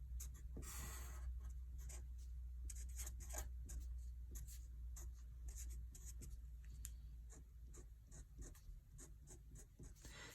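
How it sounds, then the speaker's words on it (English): Pen or marker writing out a number line for a rounding lesson, a steady run of short scratchy strokes and taps close to the mic over a low constant hum, with no talking. "if I write out on a number line"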